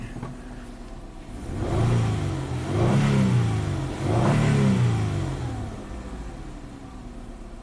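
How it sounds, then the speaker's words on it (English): A car engine revs up several times in rising, falling swells, close and fairly loud, settling back toward a steady hum between pushes, during a test drive after a misfire. "I want to take this car for another test drive."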